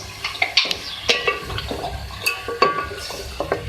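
Beef and chopped onions stirred in mustard oil in a cooking pan, giving repeated close scraping and clattering strokes with a soft sizzle, played out alone without talk.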